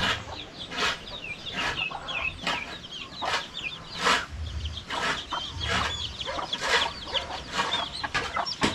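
Farm chickens cluck repeatedly in short, choppy bursts, fairly close, with a hint of a rooster among the flock and no talk.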